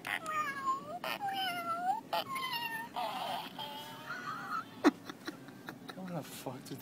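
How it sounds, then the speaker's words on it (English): Novelty sound toy producing a repeated meowing cat cry in short bursts, heard through a steady background hum while people talk nearby. "A cat."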